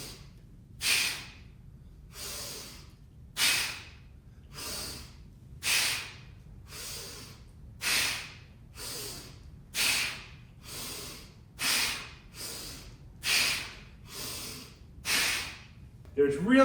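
During a single-arm kettlebell mill exercise, someone breathes in a steady rhythm. About a dozen sharp, audible breaths come at regular two-second intervals, close and clear, over a low background hum.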